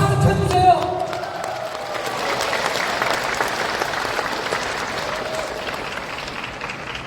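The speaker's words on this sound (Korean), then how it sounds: "박수 쳐주세요." A lecture audience at a crypto expo at KINTEX breaks into sustained applause right after a speaker's brief words. The steady crowd clapping fills the room for several seconds.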